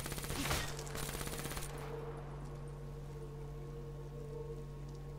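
Rapid automatic gunfire in Black Ops 3 zombies mode, a loud dense burst of rattling shots in the first two seconds that then stops, leaving a steady game hum underneath.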